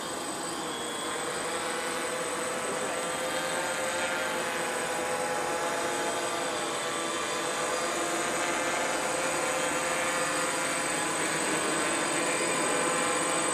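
A DJI Phantom quadcopter flies outdoors at night and comes in to land, its propellers giving a loud, steady whining buzz that holds constant throughout with no talk.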